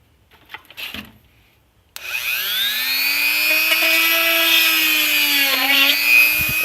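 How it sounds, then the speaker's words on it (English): After a few soft knocks, a drill starts abruptly and whines steadily at close range for several seconds while boring a hole in an Iron Man faceplate hinge part, its pitch dipping slightly near the end. "what I'm going to go ahead and do is drill a hole in that"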